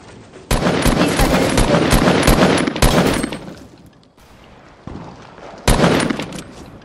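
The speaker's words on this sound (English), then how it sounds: "Oh god, they shoot at me from the side." Rapid automatic gunfire in Fortnite: a loud, dense burst of several seconds, a short second burst, a pause with low background, then another sharp burst of shots.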